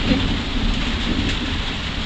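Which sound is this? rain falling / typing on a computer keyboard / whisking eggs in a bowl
rain falling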